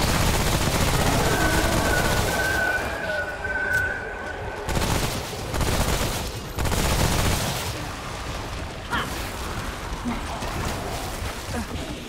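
Gunfire in Remnant: From the Ashes, a loud burst of rapid shots followed by several sharp bursts of fire amid game effects, with a voice speaking over parts of it.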